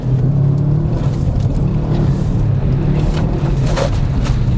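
A Subaru Impreza WRX pulling hard in second gear on a slippery, icy rally stage, its turbocharged engine a loud, steady low rumble with rising boost throughout, no talk over it.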